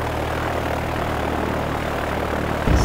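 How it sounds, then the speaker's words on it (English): Steady, loud droning roar of an airplane engine heard from inside the cabin, continuous low rumble with a brief bump at the end. "Sounds and feels like an important airplane."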